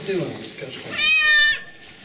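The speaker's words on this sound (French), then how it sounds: "Le pire, c'est qu'il miaule que maintenant, le chat." A pet cat named Titou meows in a long, loud, drawn-out cry that rises clearly over people talking close by, and the voices carry on before and after it.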